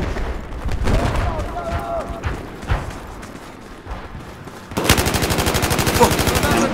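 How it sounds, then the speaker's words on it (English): Battlefield 4 video-game combat brings sustained, fast machine-gun fire in the second half, loud and continuous, after a stretch of scattered gunfire, effects and game noise. "There appears to be an enemy machine gunner operating north of you."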